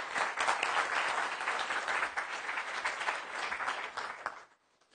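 Audience applause welcoming speaker Mark Francis at a talk, dense sustained clapping from a full room for several seconds before fading out at the end.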